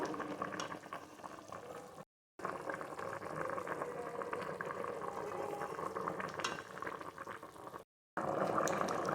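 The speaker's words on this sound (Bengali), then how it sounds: "বেশ কিছুক্ষণ আমি ফুটিয়ে নিয়েছি" Fish curry with elephant foot yam boils in a pot, giving a steady, close bubbling and simmering that runs throughout, broken by two very short silent gaps.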